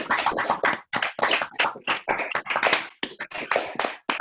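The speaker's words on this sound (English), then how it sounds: "Another round of applause for Stephen" After a show and before its question-and-answer session, an audience applauds a performer with dense, steady hand clapping that stays close and lively for several seconds, with no voices over it.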